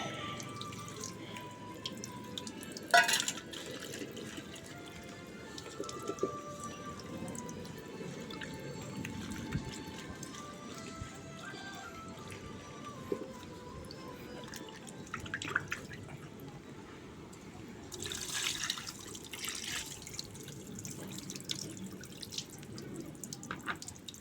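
Water runs and drips as vinegar is rinsed off a glass pane, a soft steady trickle with scattered drips and splashes, faint and close with no voices.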